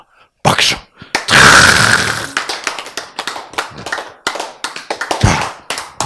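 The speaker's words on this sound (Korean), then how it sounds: "박수!" Audience applause during a Korean church lecture, starting with a few scattered claps, swelling into a loud dense burst for about a second, then breaking into irregular individual claps and taps that continue to the end.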